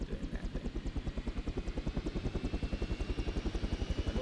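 A helicopter in the Arma 3 video game, its rotor thumping in a steady fast pulse throughout, moderately close and even in level, with no talking over it.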